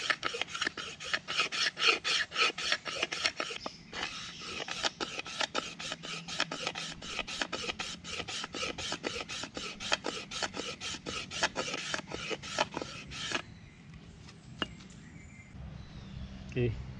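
Rapid rhythmic rasping as outer bamboo shavings are scraped for a bamboo fire saw, dozens of quick close strokes in a steady run that stops near the end, with faint birdsong in the background.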